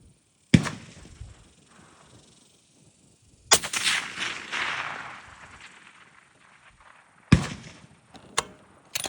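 Long-range rifle shots fired at a 900-yard target outdoors, three sharp loud cracks spaced several seconds apart with a brief rolling echo after each, no voices.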